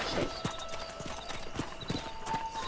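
Horse hooves clip-clop at a steady trotting rhythm in the Western video game Red Dead Redemption, quiet and even with faint game ambience behind.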